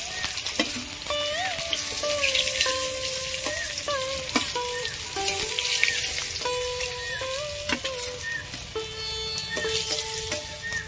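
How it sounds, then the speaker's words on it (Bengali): Pieces of katla fish fry in hot oil, giving a close, steady crackling sizzle that runs unbroken throughout, with light stirring sounds and no speech. "কাতলা মাছ বেশি ভাজবো না, বেশি ভাজলে ভালো লাগে না।"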